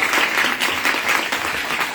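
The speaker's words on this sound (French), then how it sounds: "Alors je laisse la parole à Chantal et on applaudit très fort." Audience at a conference in Toulouse applauding loudly, a dense, even wash of clapping from many hands that holds steady throughout.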